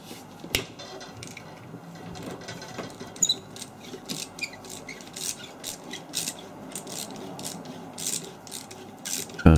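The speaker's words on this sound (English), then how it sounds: "I'm going to get the old socket out and start dismantling this really heavy thing." Socket ratchet wrench clicking in a small workshop while a heavy old motor is taken apart, with repeated close ratcheting bursts, metallic scrapes and a few knocks throughout.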